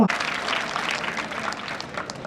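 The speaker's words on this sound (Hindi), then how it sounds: "ये आपकी तालियों की जो गड़गड़ाहट है" Steady applause from an audience at a traffic awareness event held at a school, a dense even roll of many hands clapping, moderately loud throughout with little else over it.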